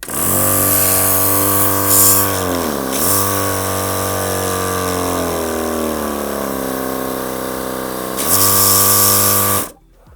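A WERTVOLL AC-2160 car air compressor runs with a loud, steady electric motor whine and rattling pulses, its pitch dipping briefly a couple of times before it cuts off at the end.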